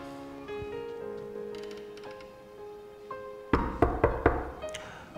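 Four or five firm knocks on a door rap out close and distinct over a quiet room with faint background music.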